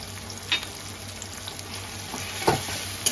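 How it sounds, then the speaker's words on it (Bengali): Grated garlic stirred into softened tomato and onion frying in a pan for a Bengali bhorta, a continuous close sizzle broken by a few spatula scrapes. "রসুনটাকে ভালো করে মিক্স করে একটু ভাজা ভাজা করে নেবো যাতে কাঁচা গন্ধটা চলে যায়"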